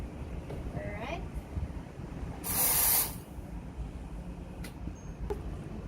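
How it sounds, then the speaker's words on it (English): A Gemilai dual boiler espresso machine's steam wand lets out a brief loud hiss of about half a second in the middle, set among quieter kitchen handling noises and clicks. "This is a dual boiler espresso machine, so steam while doing the extraction."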